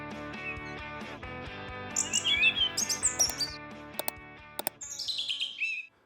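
Eurasian bullfinch calls, with clusters of thin, high chirps and whistles rising over a steady tonal background, first in the middle and again near the end of the clip.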